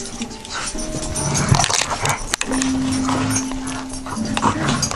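A pet dog named Piper moves about close by, with panting, soft whimpers and paw or tag clatter mixed with handling noises and a sustained tonal hum partway through.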